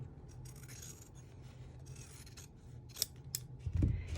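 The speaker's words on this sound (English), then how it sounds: "And I've trimmed close, but not at the seam." Close scissor snips and rasping cuts through fabric right beside a sewn seam, quiet and steady, ending in a louder thump and rustle of cloth being handled.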